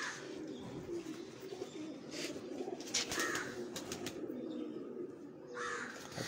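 A pigeon coos softly several times in a quiet setting, the low calls coming in short separate bursts with faint background noise between them.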